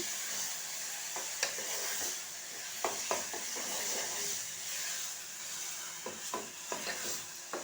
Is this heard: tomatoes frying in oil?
yes